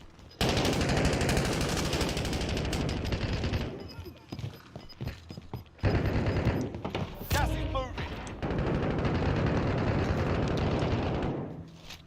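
Gunfire in a video game: loud, sustained machine-gun bursts and rapid shots fill the scene, with explosive blasts mixed in and a few short lulls, while voices talk over the shooting.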